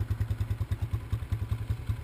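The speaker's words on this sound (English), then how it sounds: "It's a KLX140L. It's warming up right now" A Kawasaki KLX140L dirt bike warms up at a motorcycle park in San Jose, California, its single-cylinder engine idling with a steady, rapid low thumping pulse, close and alone.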